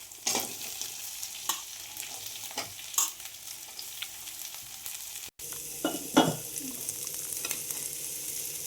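Curry leaves and onion fry in a pan with ground ginger, garlic and green chilli paste. A steady sizzle runs throughout, broken by repeated spatula scrapes and stirring knocks, with one short dropout midway.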